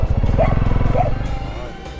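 Local dogs bark a couple of times near a hotel, the short yelps riding over a continuous engine rumble, with a person nearby talking.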